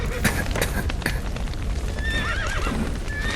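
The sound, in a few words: horses neighing in video game The Witcher 3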